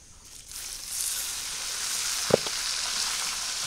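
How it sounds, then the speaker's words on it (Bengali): Leafy greens (bottle gourd, pumpkin and other greens) being tempered in a hot pan in a village kitchen give off a steady bright sizzle that swells after the first half second, with one short stir or clatter partway through. "শাক হয়ে গেছে, শাকটা আবার বাগার দিয়ে নিতেছে।"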